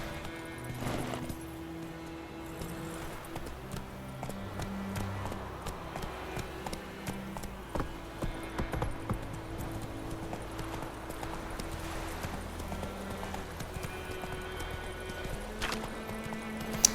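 Roach the horse gallops in The Witcher 3, a steady clip-clop of hooves running over ground at close range, continuing throughout with game ambience and no talking.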